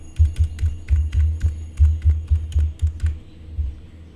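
Rapid keystrokes on a computer keyboard while an Aadhaar number is entered, a steady burst of close, crisp taps over a low electrical hum, with no talking.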